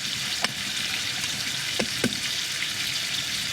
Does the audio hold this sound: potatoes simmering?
yes